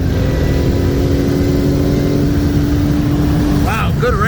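Two cars, a 2013 Shelby GT500 with bolt-ons on 93 octane and a 2007 BMW 335i with a Pulsar GTX3584RS turbo on E85, race side by side with a loud, steady engine drone that swells toward the end while people talk.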